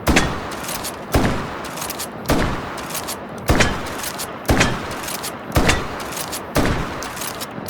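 Pump-action shotgun with a folding stock fired in the VR game Hot Dogs, Horseshoes and Hand Grenades, in a Call of Duty: Black Ops setup: seven loud, sharp blasts at a steady, unhurried rhythm, each trailing off before the next.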